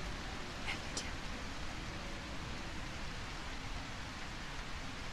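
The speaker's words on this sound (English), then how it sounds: "Yeah, the rain actually helps." Steady rain falls in the A Quiet Place video game, a dense, even hiss of downpour that holds at the same level for several seconds with no clear breaks.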